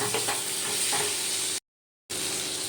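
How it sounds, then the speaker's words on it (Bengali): Fried ridge gourd with chili powder stirred in a hot pan, loud continuous sizzling and frying with scraping strokes, broken by a brief silent gap before the sizzle resumes. "লঙ্কা গুঁড়োটা দিয়ে একটু ভালো করে মিশিয়ে নিলাম"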